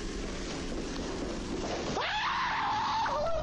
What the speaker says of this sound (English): Rushing footsteps come from within and send him screaming off the job site.